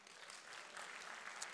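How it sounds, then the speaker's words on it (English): Steady applause from a seated audience at a university lecture event, a dense even patter of many hands clapping close by with no voices over it. "You got to clap after that because that's my boss."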